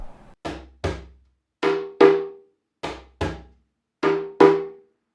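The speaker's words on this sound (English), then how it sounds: "Anyway, here's djembe." Djembe struck by hand and picked up through a contact mic, eight dull, thumping hits arriving in pairs with short gaps, close and fairly loud, each decaying quickly into silence.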